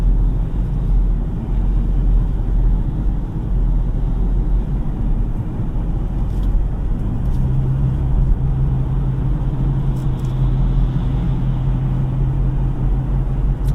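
A 2018 Ford Ranger Wildtrak 4x2 pickup cruising at about 50 km/h, its all-terrain tires giving a steady, loud road roar with low engine rumble throughout, a slight drone shift partway through, no talking.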